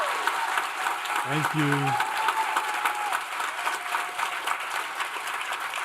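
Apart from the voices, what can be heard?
audience applause welcoming two speakers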